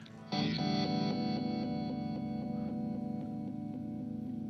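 A Walrus Fundamental delay pedal on a sustained guitar chord begins abruptly, and its echoes pulse in a rhythmic, choppy pattern as the tone slowly decays, close and fairly loud, with no talking.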